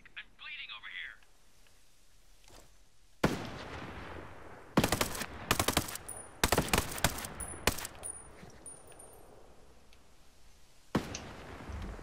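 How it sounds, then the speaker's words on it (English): Enemy gunfire in the video game Ghost Recon Breakpoint: loud, sharp bursts of automatic fire break out after a quiet start with a brief voice, then crackle on and off in dense volleys, with a final burst near the end. "I hear enemy fire."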